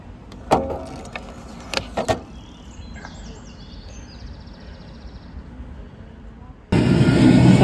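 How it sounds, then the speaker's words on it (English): Ambience at a tram station in Leeds: a few brief clatters and thumps, a faint whine, then a loud, steady rushing roar that rises near the end, close by with no talk. "So I'm just at the tram station now."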